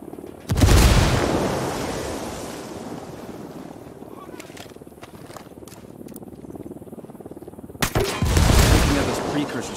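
Grenade blast and gunfire in the Ghost Recon Wildlands video game: a loud, heavy boom opens, a rumbling battle din follows, and a second powerful blast hits near the end.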